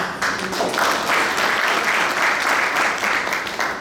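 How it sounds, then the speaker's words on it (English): An audience gives a steady round of applause at a 2016 LASC event, dense clapping filling the room for about four seconds with no speech over it. "Let's give Sherman and his lovely wife, Laura, a round of applause."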